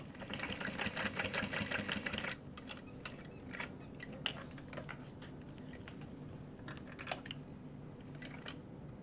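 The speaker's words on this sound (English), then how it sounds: "So we're gonna wrap this around the slide adjuster and sew a little box." A domestic sewing machine runs a fast stitching burst to sew a small box over strap webbing wrapped around a tote bag's slide adjuster, then drops to a quieter, lighter ticking of slower stitches.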